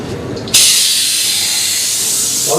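A container used in molecular mixology is opened and excess gas escapes in a sudden loud, close hiss that holds steady for about two seconds.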